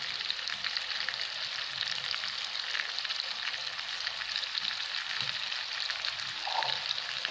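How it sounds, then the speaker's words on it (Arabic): Marinated chicken pieces fry in a pan with a continuous, fairly loud sizzling hiss and scattered crackles, steady throughout with no talking. "هاولي هذوما طرف ثلاثة طرف تاع ستة راح نديرهم في مقلاة واحدة أخرى هكذاك باش يطيبو بليتسا."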